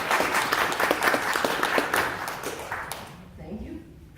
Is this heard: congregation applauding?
yes